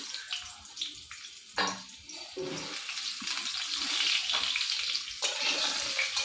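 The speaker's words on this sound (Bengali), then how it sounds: "আমি ওই বেগুনের তেলেই বেগুন ভাজা তেলেই আলুগুলো ছেড়ে দিই" Potato pieces fry in oil left over from frying eggplant, a steady watery sizzle with louder splashy bursts as they go in and settle, close by and continuous, with no talk.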